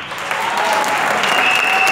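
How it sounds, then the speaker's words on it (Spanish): Loud, dense applause from an audience at a product demonstration in Bogotá, with a steady wash of clapping and a faint tone running through it. "Eso merece un aplauso."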